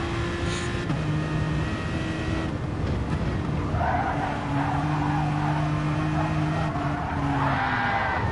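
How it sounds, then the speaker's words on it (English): GT3 race car in a sim racing game at the Nurburgring, engine droning steadily as it catches the grass and spins, with tyre scrubbing and skidding noise rising partway through, loud and continuous throughout. "just caught the grass and unfortunately had that rear left tyre fully loaded"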